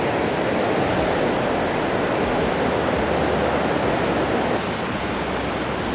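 Loud, steady roar of the Niagara River rapids heard from a riverside walkway, a dense continuous wash of water noise with no pauses, close and overwhelming.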